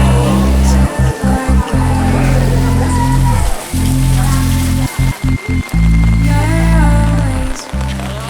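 Steady rain falls at Ulun Danu temple beside Lake Bratan in Bali, a dense wash of drops on surfaces, with a low droning hum and occasional faint voices in the background.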